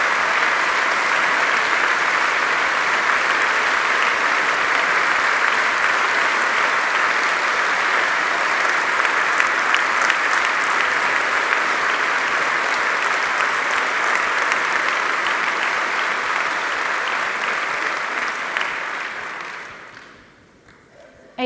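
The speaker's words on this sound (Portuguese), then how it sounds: "pedia uma grandíssima salva de palmas" A hall audience gives long, sustained applause to the contributing authors at a book launch, a thick steady roar of many hands that holds evenly before fading out near the end.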